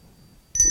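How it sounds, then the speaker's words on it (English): A bell is struck once, giving a bright ringing tone that begins abruptly after a quiet moment and sustains to the end. "when you ring a bell, it makes a sound"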